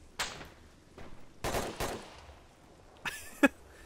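Sharp video game gunfire with several separate bursts, each a crack followed by a short rattle, and a louder final shot near the end; no voices.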